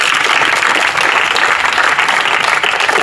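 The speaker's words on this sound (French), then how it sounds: "j'aimerais que vous puissiez applaudir quand même pour vous" A group at a sports evangelisation session of a Congolese athletics academy claps for themselves, a loud, dense and steady wash of applause lasting the whole stretch without a break.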